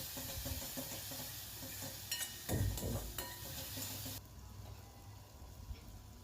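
Ground paste frying in a pan for mutton brain fry, a soft sizzle under irregular scraping and clinking strokes of a spatula, close but fairly quiet, with the hiss fading to near silence toward the end.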